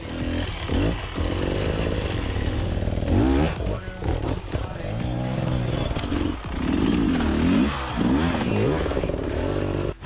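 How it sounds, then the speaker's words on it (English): A Beta 300 Cross Trainer two-stroke enduro motorcycle being ridden off-road, its engine buzzing loudly and rising and falling with throttle, with clattering and scraping from the trail throughout. "I was riding Jeff's Beta 300 Cross Trainer"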